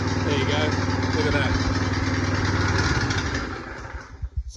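A 12-ton horizontal and vertical log splitter's engine runs steadily at moderate revs with a continuous, fairly loud mechanical drone, then falls away near the end.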